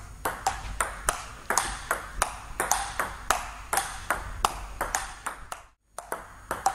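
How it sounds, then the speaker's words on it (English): A table tennis ball bounces during a rally, giving crisp, close pings in a very steady, even rhythm. Around a dozen strikes are followed by a brief silence and then one more hit. "You can hear that it's making a very regular beat."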